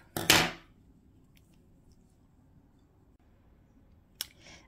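Scissors snip crochet yarn up close: one crisp, loud cut at the start, then quiet, and a faint sharp click near the end followed by a soft rustle.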